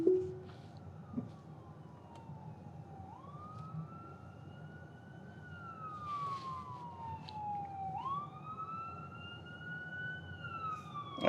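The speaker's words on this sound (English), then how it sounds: "no lights, but a siren" An emergency vehicle siren sweeps up and down in long wailing glides over the steady hum of a car interior. The vehicle is passing through a drizzly intersection with no lights showing.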